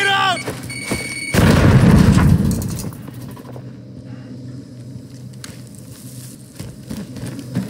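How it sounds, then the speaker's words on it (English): A grenade explosion in Call of Duty Warzone: one loud, close, heavy boom that rumbles away over about a second. A brief voice comes just before it, and quiet ambience follows. "Grenade out!"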